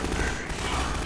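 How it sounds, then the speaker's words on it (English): A short, loud burst of rapid video game gunfire fills about one second, shots overlapping densely in the foreground. "now they're shooting the G-Man."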